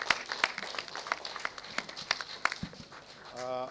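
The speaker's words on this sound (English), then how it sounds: "Another round of applause." Scattered, uneven hand clapping from an audience at the 32nd graduation ceremony of Mbarara University of Science and Technology, close and moderately loud, with speech running underneath and a voice rising clearly at the end.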